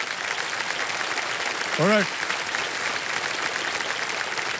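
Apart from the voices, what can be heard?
studio audience applause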